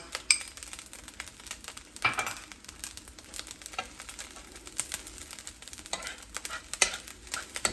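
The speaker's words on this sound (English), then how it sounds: "We're going to go ahead and drop these green onions" Green onions dropped into hot fried rice in a pan, giving a steady low sizzle and frying hiss with scattered stirring scrapes and utensil clinks, fairly faint and without talk.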